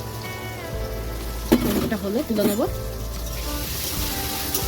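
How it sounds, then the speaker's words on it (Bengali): Paneer frying in a pan during home cooking, a steady broadband sizzle running throughout, with a person speaking briefly over it near the middle. "পনিরটা ভাজা হোক"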